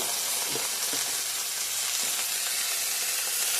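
Taro (kochu) frying in a pan with salt and turmeric, a steady broadband sizzle and hiss running evenly throughout with a few faint stirring knocks, no voices.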